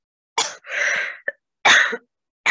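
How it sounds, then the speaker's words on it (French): A person coughs in a dusty place: several short, dry, close bursts with a throat-clearing sound between them, separated by silence, with no other voices or noise. "ça me fait tousser."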